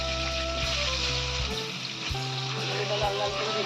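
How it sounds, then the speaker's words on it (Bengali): Potatoes frying in hot mustard oil with turmeric and salt give a steady, close sizzle throughout, with a low hum of the kitchen beneath it. "আলুটা ভাজা ভাজা করে নেবো"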